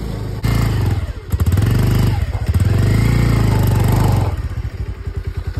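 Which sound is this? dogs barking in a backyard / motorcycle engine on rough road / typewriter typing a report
motorcycle engine on rough road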